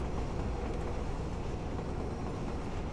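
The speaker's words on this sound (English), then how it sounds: "Train begins to move." A train in the Fallout 4 video game starts to move, giving a continuous heavy rumble and rattle of rail cars that stays steady throughout, with no speech.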